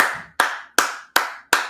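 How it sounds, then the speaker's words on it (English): Sharp hand claps ring out in a steady rhythm, five crisp, close and loud strikes spaced evenly about 0.4 seconds apart, each with a short fading tail, with no voices over them. "Round of applause for everybody."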